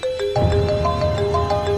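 Electronic phone ringtone melody playing nearby, a short run of bright sustained tones stepping up and down over a low hum.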